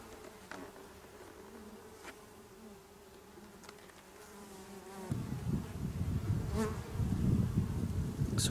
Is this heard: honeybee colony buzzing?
yes